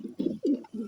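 Domestic pigeons cooing close by in a home loft, a run of four low, throaty coos with short gaps between them, no voices.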